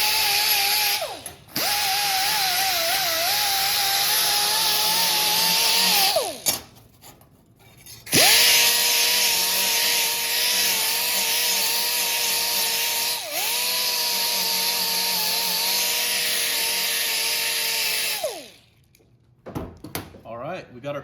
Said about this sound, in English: Used a few grinders and cut out this square.